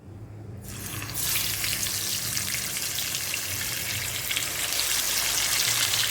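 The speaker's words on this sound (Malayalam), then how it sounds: "വെളിച്ചെണ്ണ ഒന്ന് നന്നായി ചൂടാക്കിയിട്ട് നമുക്ക് മീൻ കഷ്ണങ്ങൾ ഓരോന്നായിട്ട് ഇതിലേക്ക് ചേർത്ത് കൊടുക്കാം" Fish pieces drop into hot coconut oil for shallow frying in a Kerala-style fish molly, and a sudden, loud, steady sizzle starts about a second in and continues throughout without talk.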